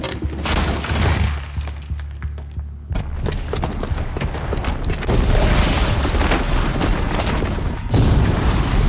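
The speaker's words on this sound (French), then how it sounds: "la bombe au rez-de-chaussée va être amorcée" A bomb exploding in the action game Horizon Zero Dawn, heard as a chaotic stretch of heavy booms, shattering crashes and debris thuds, with a brief lull before the blasts resume and build into a loud, sustained roar.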